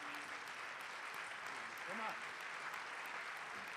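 Steady, dense applause from a conference award ceremony crowd fills the whole stretch, a broad even clatter of many hands at moderate distance, with a brief voice rising through it.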